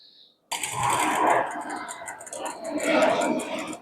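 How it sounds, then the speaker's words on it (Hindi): A sewing machine stitches a ladies' palazzo pant near the pocket. It whirs close and fairly loud after a brief silence, running in two stretches. "अब यहां से हम सिलाई लगानी शुरू करेंगे"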